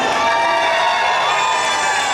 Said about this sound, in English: how about giving yourself a round of applause?